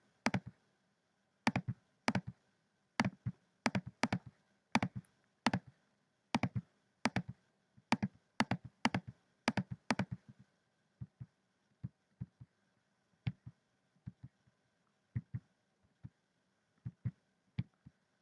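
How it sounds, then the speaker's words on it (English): Mouse button clicks while stepping through the questions of an online social anxiety exam in a web app, sharp and close, in quick repeated bursts at first and then sparser, spaced single clicks with no talk. "just clicking through all different questions"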